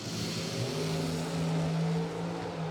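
Drag racing cars launch at the Fall Fling, among them Blaine Parrish's 436 cubic inch Camaro and Verdi's 525 cubic inch Pontiac, heard as a faint, distant engine roar with rising tonal drone.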